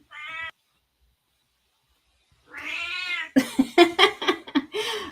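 A house cat meows close by, one short call, then after a pause a longer drawn-out meow followed by a string of quick chirping cries.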